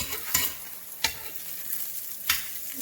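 A birria taco tortilla fries in a pan with a low, continuous sizzle, broken by three or four sharper taps and scrapes of a utensil, close and clear without voices.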